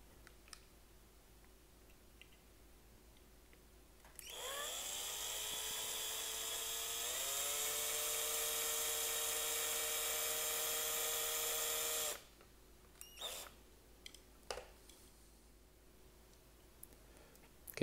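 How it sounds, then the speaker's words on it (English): An electric drill whines steadily for about eight seconds while drilling out rivets on a Hot Wheels car, its pitch dropping once under load, followed by scattered clicks and taps of small parts. "going to drill out these rivets"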